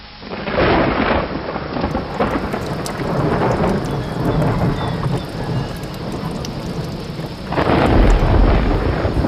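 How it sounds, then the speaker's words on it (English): Heavy rain pours steadily during a thunderstorm, with loud rumbling thunder swelling near the start and again toward the end over the constant hiss of rainfall. "It is raining."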